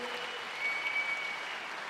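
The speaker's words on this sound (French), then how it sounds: "On peut applaudir pour 6 minutes résumées" A live squash crowd applauds steadily at a doubles match in Nantes, France, the clapping dense and even throughout with slight swells toward the middle, no voices standing out.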